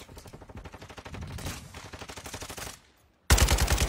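Rapid automatic gunfire in a shooter video game rattles in dense bursts, then cuts to near silence before a louder, closer volley erupts.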